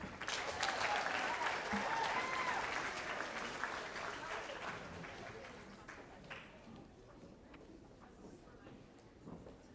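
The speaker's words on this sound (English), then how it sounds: "Let's give our horse bowlers another round of applause." Audience applause at the 2023 Colorado 4-H Awards Banquet for the Horse Bowl team, a dense wash of clapping from a large crowd that starts loud and slowly fades over about ten seconds, with some voices mixed in.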